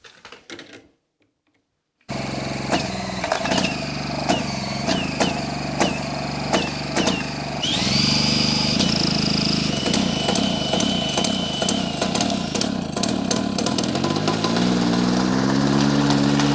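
A Motobecane Moby-X1 folding French moped's small two-stroke engine kicks into life after a moment of quiet, running loud and close with a steady buzzing idle, then revving higher and settling into a rising drone.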